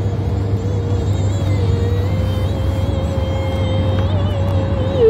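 Car cruising on a Croatian motorway, a steady low engine and road rumble with a faint whine holding at constant speed, heard from inside the cabin.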